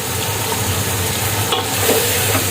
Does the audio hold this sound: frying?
yes